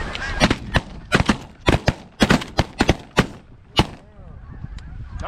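Shotguns fire a rapid volley of loud blasts during a goose hunt outdoors, a dozen or so overlapping reports in quick bursts. Faint goose honks and calls are heard between and after the shots.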